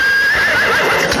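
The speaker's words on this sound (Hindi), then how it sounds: "घोड़ा गाड़ी में घुस गया" A horse pulling a carriage whinnies loudly with a wavering neigh, while the clip-clop of its hooves rattles steadily underneath, close and continuous.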